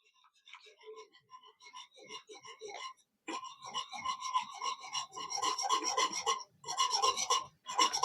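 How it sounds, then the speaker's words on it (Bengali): A whisk scrapes rhythmically through thick rice paste mixed with milk powder in a bowl, giving quick rasping strokes that grow faster and louder, broken by short pauses, with no talking. "প্রথমে একটা হুইস্ক দিয়ে ভালো করে মিশিয়ে নেব।"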